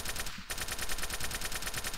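Rapid gunfire in the Trouble in Terrorist Town video game, a dense, continuous burst of shots that fills the whole two seconds at high level, with a brief dip near the start.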